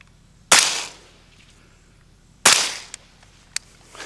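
Two suppressed shots from an M16A2 with a 20-inch barrel and an OCL Infinity 556K suppressor, sharp muffled cracks about two seconds apart with short decays, followed by faint metallic clinks of ejected brass.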